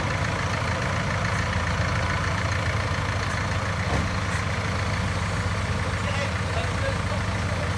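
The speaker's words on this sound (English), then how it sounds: "So now the van is attempting to get out of the entrance." A van's engine idles steadily and loudly as it tries to get out of a farm entrance, a constant low rumble filling the whole stretch with faint voices underneath.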